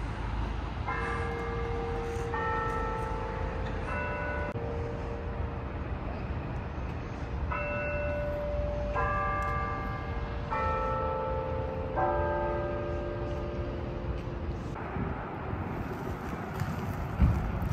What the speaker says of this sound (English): Oh, we got the church bells going in town.